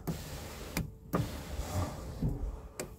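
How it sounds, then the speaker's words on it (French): Electric window on a converted mini van being lowered, a steady motor whir running throughout, punctuated by several sharp clicks from the switch, close and fairly quiet. "je vais actionner la vitre électrique pour le faire descendre"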